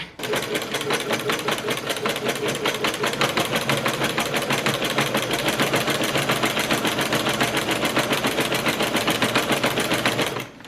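Sewing machine running a long continuous stitch, sewing two rows of basting for gathers on a dress; a steady, rapid mechanical rattle, loud and close, alone for about ten seconds before stopping.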